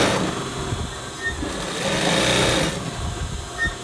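Sewing machine double-stitching a seam on underwear, a fast continuous whirring run of stitches, loud and close, with slight swells in speed and no talking.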